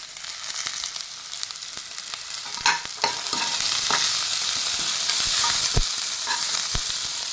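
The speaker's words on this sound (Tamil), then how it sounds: "நம்ம துணி வச்சுருக்கிற கேரட் பீட்ரூட்டையும் சேர்த்திக்கலாம் எல்லாத்தையும் சேர்த்து நல்லா பச்சை வாசனை போகிற வரைக்கும் எண்ணெயிலே வதக்கிக்கலாம்" Grated carrot and beetroot are sautéed in oil with green chillies, curry leaves and coriander, a steady close sizzle punctuated by scattered sharp spatula taps against the pan, with no talking.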